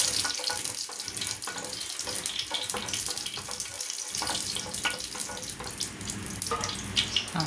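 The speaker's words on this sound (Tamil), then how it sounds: "கடுகு பொரியட்டும். கடுகு நல்லா பொரிஞ்சதுக்கப்புறம் நம்ம பூண்டு சேர்த்துக்கலாம்." Mustard seeds spluttering in hot oil for a spicy brinjal fry, a constant dense crackle and hiss with scattered sharp pops throughout, close and fairly loud.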